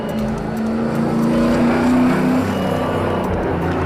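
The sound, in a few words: stock car drifting sideways around a track corner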